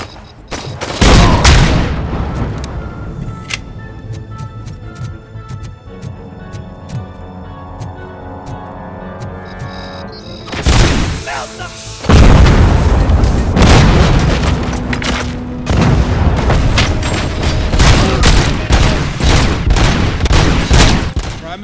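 Heavy grenade blasts and gunfire from the game RoboCop Rogue City, with loud booming bursts at the start, a quieter stretch of rattling shots, then a long sustained roar of explosions and fire.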